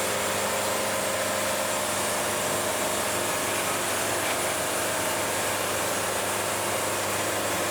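A band sawmill runs steadily in forward gear outdoors, giving a continuous broadband mechanical whir with a low engine hum underneath, loud and unbroken for several seconds with no talking.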